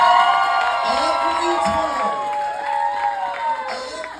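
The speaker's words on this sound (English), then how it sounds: "can we give Noemi a round of applause?" A live audience at a Primerica business event applauds and cheers for Noemi, with whoops and shouts rising over a crowd clapping, and a voice carrying through the noise.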